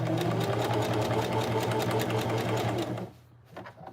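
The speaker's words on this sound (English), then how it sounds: "Lift up your foot, lay it back down, continue sewing over the seam" A sewing machine stitches over a seam on a denim jacket made from repurposed jeans, running in a fast, steady, close mechanical whir for about three seconds before stopping abruptly.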